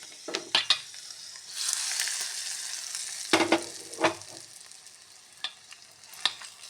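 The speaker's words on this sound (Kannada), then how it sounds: "ಈಗ ಒಗ್ಗರಣೆ ಹಾಕೋಣ." Tempering sizzles loudly in hot oil for a jackfruit peel gojju, a sustained crackling hiss that swells and fades, with sharp clinks of a ladle or pan at the start and end.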